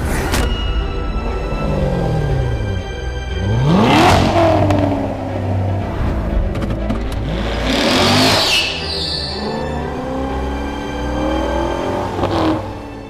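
A Corvette Stingray with a 6.2 liter pushrod V8 revs hard several times, each burst rising in pitch and falling away, loud and close with steady rumbling between revs and no talking.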